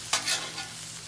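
Beef fried rice with carrots is stirred and flipped in a hot pan, giving a short scrape and soft sizzle that fades quickly, quiet and close with no voices.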